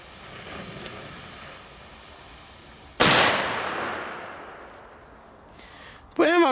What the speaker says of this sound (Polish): jak na petardę z czarnym prochem i z taką małą ilością